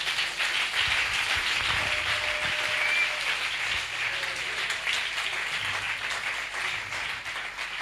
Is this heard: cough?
no